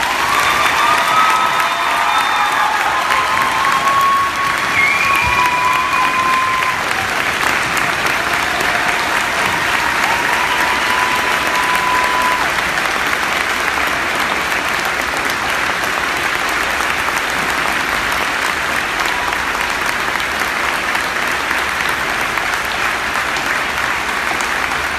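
A large crowd at a high school graduation ceremony gives long, steady applause mixed with cheering and a few whoops, a dense wall of clapping that stays loud and even throughout.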